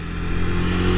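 A KTM RC 390 motorcycle at full throttle gives a loud, close, steady engine roar for about a second, with no voices.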